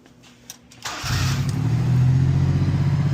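A Honda Acty's engine fitted with a new custom muffler cranks after a few faint clicks and catches about a second in, then settles into a steady, deep, close idle that swells slightly.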